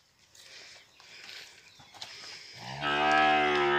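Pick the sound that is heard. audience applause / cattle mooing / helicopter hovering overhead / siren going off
cattle mooing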